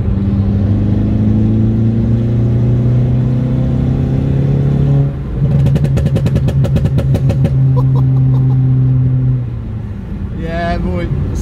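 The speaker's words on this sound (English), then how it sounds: "That exhaust, mate, is sick." Modified stage 2 Audi A1 with a lowered static stance, exhaust droning and revving while driving: a loud, close engine note that climbs through gears with crackling pops in between, with talking over the engine.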